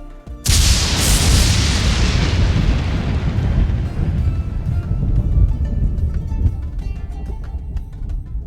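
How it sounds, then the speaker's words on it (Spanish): A lightning strike on an airplane: a sudden sharp crack bursts into a huge rumbling boom that rolls on and slowly decays over several seconds, loud and close. "En un parpadeo, el avión fue alcanzado por un rayo. Una explosión de sonido y luz envolvió a la aeronave."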